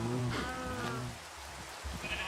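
A video game sheep bleats twice in quick succession, close and clear, followed by a brief quieter rustle.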